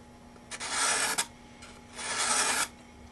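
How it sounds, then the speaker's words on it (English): A hand scraper pares wood from the lining of a violin top plate in two slow rasping strokes, close and fairly quiet, separated by a short pause. "As I work, I just hold the scraper at the proper angle and slowly move it along."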